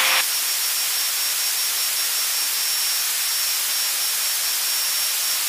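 Twin 300-horsepower piston engines with four-bladed props on a Foxstar Baron 58 drone at full climb power, a loud, unbroken broadband roar heard from inside the cabin.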